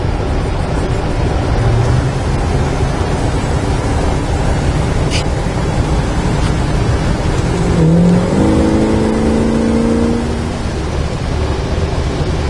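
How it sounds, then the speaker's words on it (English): 1968 Dodge Charger engine runs with a loud, close rumble, rising into a brief rev partway through, then settling back to a steady idle. "Nice running car."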